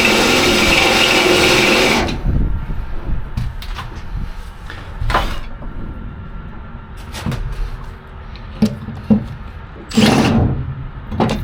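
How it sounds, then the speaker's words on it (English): A drill bores through thick steel plates on a Scania 143H V8 truck under restoration, loud continuous grinding for two seconds, then quieter workshop clatter with short bursts of drilling. "Of course, I'm drilling."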